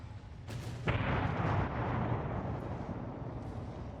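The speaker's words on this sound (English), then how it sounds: "Torpedo detonation going up." A torpedo detonation from naval warfare game Ultimate Admiral Dreadnoughts: a sharp burst followed by a heavy, rumbling boom that rolls on and slowly fades, fairly distant, with no talk.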